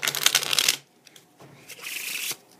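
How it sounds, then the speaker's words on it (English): Two quick bursts of playing cards being shuffled, a crisp riffle followed by a brief pause and a second fluttering shuffle, close and fairly loud. "when I shuffle them"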